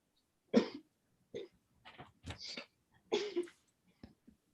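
A woman coughs in her sleep: several soft, separate coughs and throat-clearing sounds, spaced irregularly with quiet pauses between them.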